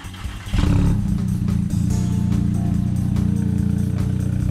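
A Volkswagen MK7 GTI engine with a new Vibrant resonator starts up and settles into a steady, throaty exhaust rumble at idle, close and fairly loud.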